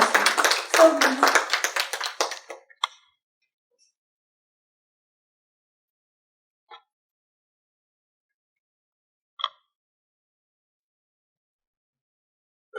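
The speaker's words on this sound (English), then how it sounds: "A big round of applause to welcome him on the dais." A conference audience claps to welcome a speaker to the dais at an inaugural business research event, a dense burst of applause lasting under three seconds and fading out, followed by near silence with a few isolated taps.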